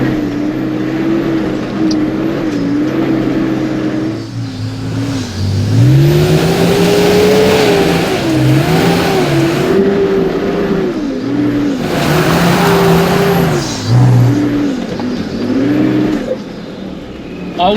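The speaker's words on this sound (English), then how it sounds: "Then I'm going to try third gear, both lockers." A 4WD with both lockers engaged climbs a slippery hill track in third gear on a hard bush trail in NSW's Mid North Coast, the engine loud and close as it revs, bogs and surges repeatedly, with wheelspin throughout.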